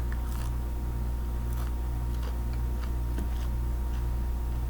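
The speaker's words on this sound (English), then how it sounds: "it's taking longer for me to chew it than I thought it would." Someone chews sweet potato French fries close up, soft crunchy bites and wet chewing repeating irregularly over a low steady hum.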